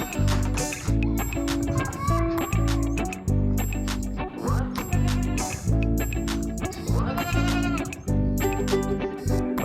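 Goats bleating repeatedly at a farm on a stormy day, with loud, wavering calls overlapping in close succession and a steady low rumble underneath.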